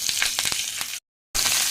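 Black pepper and cumin sizzle in hot oil in a frying pan for egg rice, a loud continuous crackle with sharp pops that cuts out briefly and then resumes.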